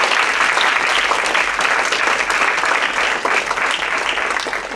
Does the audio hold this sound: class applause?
yes